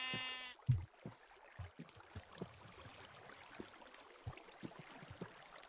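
Minecraft sheep bleating in a short wavering cry near the start, followed by a steady run of soft game sound effects and footsteps with no talk.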